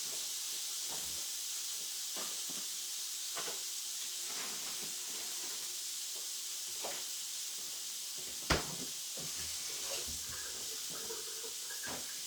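Frozen sliders cooking in a pan, a constant soft hiss of steam and sizzle with occasional faint clinks and one sharper knock.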